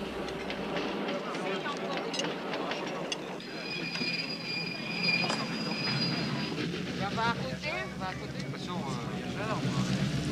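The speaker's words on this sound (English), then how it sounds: "the caravan pauses to let the descending train pass." A descending train passes at Pampa de Arrieros in the Andes, with railcars rumbling and wheels squealing in high metallic tones, heard at moderate distance under a voice talking.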